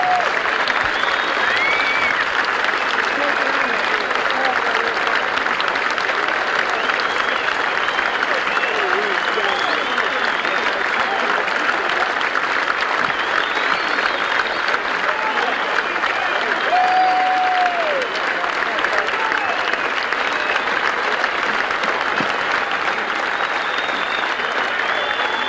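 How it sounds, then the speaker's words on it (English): A large golf crowd at the 1990 U.S. Open at Medinah applauds and cheers in a loud, sustained roar of clapping with whistles rising through it, continuing unbroken for the whole stretch. "Here comes the tribute as the crowd begins to build."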